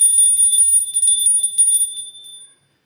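Notification bell sound effect: a bright, ringing chime repeats rapidly in a tinkling cluster, loud and close, then cuts off abruptly into silence.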